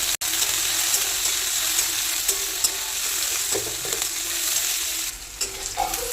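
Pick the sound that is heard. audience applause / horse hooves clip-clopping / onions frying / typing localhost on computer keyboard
onions frying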